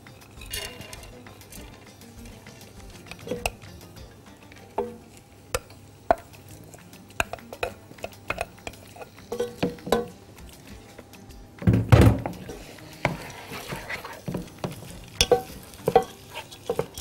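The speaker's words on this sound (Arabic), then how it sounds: "واحط الفريك برضو يتشوح" Freekeh being stirred and sautéed in a pan with ghee: a spoon scrapes and clinks against the pan in irregular strokes over a soft, steady sizzle, with a louder burst of stirring near the middle.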